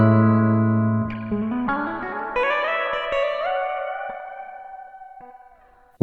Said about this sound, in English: We can often EQ our reverbs in general, not just our spring reverbs for our guitars